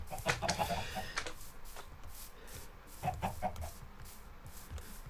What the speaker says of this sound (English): the chickens are gonna escape